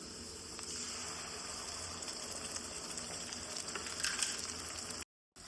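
Chopped onion frying in oil in a pan for jalebi fish curry gives a steady, close hiss that swells slightly near the end, then cuts off briefly.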